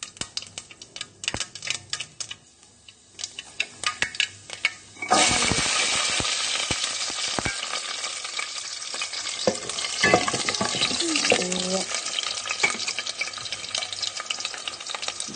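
Mustard and fenugreek seeds hit hot oil in a pot for sardine curry, bursting into a loud sustained sizzle after a few seconds of clicks and light handling sounds, with crackling pops throughout.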